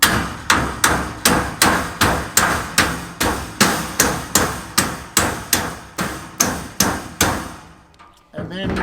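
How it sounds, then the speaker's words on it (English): A hammer whacks wire on a sheep panel fence in a steady run of about fifteen sharp, loud, close metallic strikes, evenly spaced, stopping near the end. "And then finish off with a bit of a whack with the hammer."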